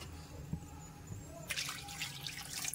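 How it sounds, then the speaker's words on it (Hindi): Water poured a little at a time into a pot of spinach palak nimona, a soft splashing trickle that begins partway through after faint clinks, quiet and close. "मैं इस पर थोड़ा थोड़ा करके पानी ऐड कर रही हूँ"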